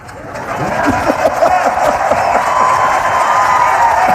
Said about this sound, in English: A lot of women who started clapping when he said that